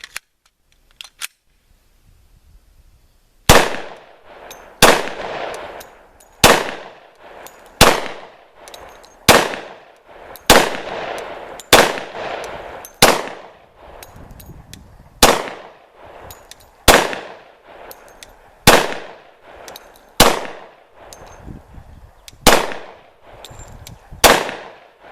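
Glock 20 SF pistol shots at a shooting range ring out in a steady, evenly spaced series of about fifteen loud, sharp cracks, each with a short ringing tail, with no talking between them.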